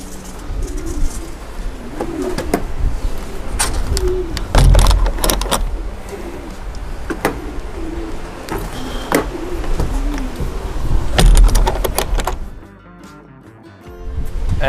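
Racing pigeons coo softly inside a loft, layered over clattering and bumping of handling and doors, with a brief quieter stretch near the end.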